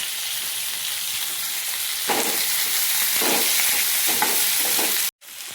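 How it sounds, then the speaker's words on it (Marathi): Tomatoes fry in oil in a pan, a loud, steady close sizzle with brief stirring scrapes, which cuts off abruptly near the end and then resumes quieter, with no voices. "असं तेल टाकून भाजून घेऊ आपण। याच्यामध्ये टोमॅटो भाजून पण घेऊ।"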